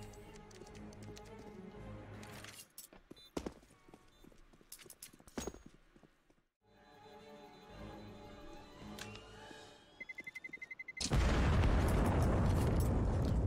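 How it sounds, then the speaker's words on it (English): In a CS:GO match, a planted bomb beeps rapidly and then detonates in a loud, sustained roaring blast, after a stretch of gunfire and footsteps. "That bomb goes off"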